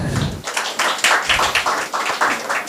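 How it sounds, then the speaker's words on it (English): An award ceremony audience at an education talk show in Kolkata breaks into steady applause, rhythmic clapping from many hands close and loud throughout, with no talking over it. "A big round of applause, please."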